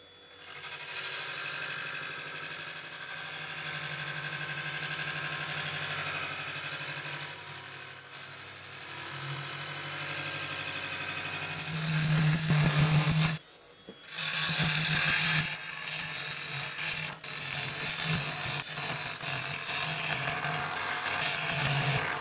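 A wood lathe spins a natural edge yew vase as a 3/8 gouge makes finishing cuts, producing a steady whirring hum with scraping texture that briefly drops out before resuming.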